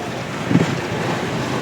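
Sea waves break along the rocky coast below Nivati fort, a steady wash of surf mixed with wind buffeting the microphone and one slightly louder surge midway.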